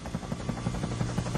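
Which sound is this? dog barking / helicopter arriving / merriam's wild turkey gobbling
helicopter arriving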